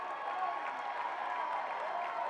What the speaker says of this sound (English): The crowd got excited as well.